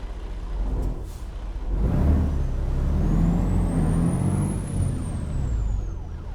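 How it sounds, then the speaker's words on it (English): Inside American Truck Simulator, a distant siren wails faintly, rising and falling above the low rumble of a big rig's engine and a burst of air brake hiss. "we can hear sirens off in the distance."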